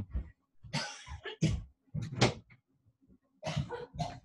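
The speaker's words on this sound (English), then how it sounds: "I'm going to start coughing now." Someone coughs repeatedly in short, harsh bursts, close by, with brief pauses between fits.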